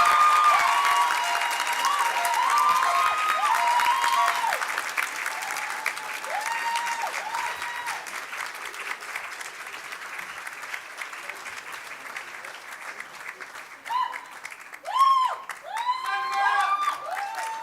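A graduation audience at the International Community School Class of 2025 ceremony applauds at length, loud at first and then easing. Near the end come bursts of cheering, whoops and whistles.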